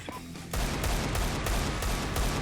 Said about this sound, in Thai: ยิงทะลุสมโมไปหนึ่งทีแบบฟอร์มเซียน